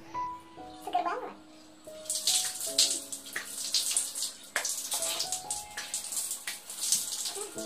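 Water splashing and running from a tap while rinsing skincare off the face, with a steady broadband wash over several seconds, close and fairly loud, interrupted by brief pauses and someone talking over it.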